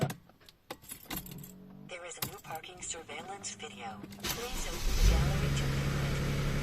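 Car key jangling and being inserted into the ignition of a Mercedes W211 after power reconnection, a close metallic rattle with clicks, followed by a rising electrical whirr near the end.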